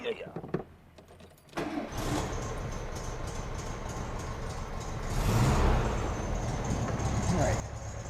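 A 1972 Volkswagen Super Beetle engine idles steadily with a low rumble, rising slightly in loudness partway through, after some brief clicks and handling noise at the start.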